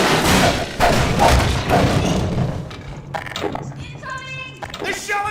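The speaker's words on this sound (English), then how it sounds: "They're shelling us! Headcrab canisters." Heavy thumping impacts of headcrab canisters slamming down during shelling in Half-Life 2, booming and close, with a voice speaking over the blasts and a buzzing electronic tone near the end.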